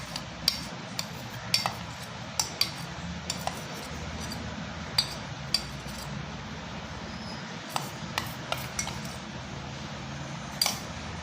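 Blanched cauliflower florets are mixed by hand into prepared batter in a bowl in a home kitchen. Soft, wet squelching runs throughout, broken by scattered light clinks of a utensil against the bowl, with no talk.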